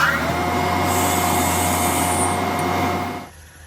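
Carbide tool cutting a groove into ebonite for a fountain pen clip on a lathe: a steady, loud scraping and whirring hum that holds evenly and then drops off near the end.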